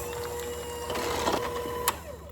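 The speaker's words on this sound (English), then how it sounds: "Using an electric hand mixer, give it a mix." Steady whirring drone of an electric hand mixer beating cake batter made with vanilla extract, sugar, yogurt and melted butter, a continuous close motor hum with slight clatter.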